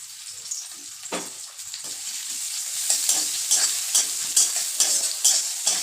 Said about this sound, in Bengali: ওই যে পেঁয়াজ দিয়ে দেবো এতে